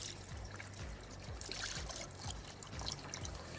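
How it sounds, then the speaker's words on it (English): Antifreeze trickles and glugs steadily as it is poured into the cooling system of a GMC 350 engine, a continuous close liquid stream with faint bubbling and no voices. "I'm just putting a whole antifreeze in there"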